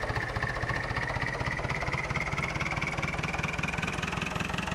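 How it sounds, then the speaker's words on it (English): A tractor engine runs steadily in Farming Simulator 2011, a loud, continuous mechanical drone with a fast, even pulsing throb and a persistent whine layered over it, with no voices. "Now let's go jump back in this tractor."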